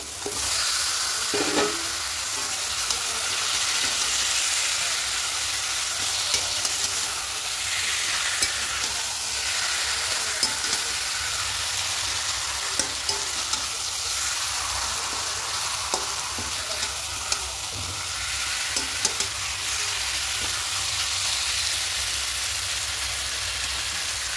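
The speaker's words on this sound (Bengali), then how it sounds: "এবার এখানে চিকেনটা দিয়ে দেবো।" Chicken sizzles in fried spice paste and is stirred in a pan for a spicy potato chicken curry. A dense, loud frying hiss runs continuously, dotted with scattered scraping stirs, close and without talk.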